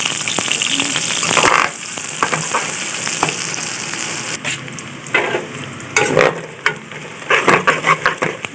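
Onions frying in a pan until browned, loud close sizzling with repeated scraping and stirring strokes, bursts of spoon clatter toward the end, no talking.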